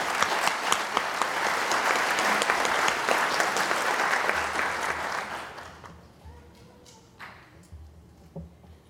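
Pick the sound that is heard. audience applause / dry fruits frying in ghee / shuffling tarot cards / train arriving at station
audience applause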